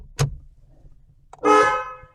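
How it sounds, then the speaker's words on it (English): A Citroen BX 16 car horn sounds from inside the car, first a sharp short blip after a click, then a longer loud honk near the end, with no talk. "Well, that's just a horn."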